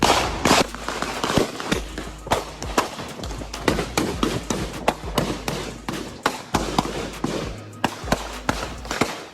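Rapid, irregular volleys of sharp gunshots crack one after another, loud and continuous, with dull thumps underneath.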